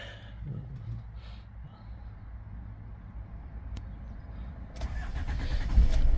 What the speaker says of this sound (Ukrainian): Автомобіль заводиться без проблем, ніяких помилок нюансів по ньому немає.